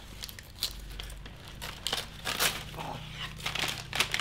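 Wrapping paper crinkles and tears as a carefully wrapped Christmas present is opened, with irregular close rustles and rips at moderate loudness.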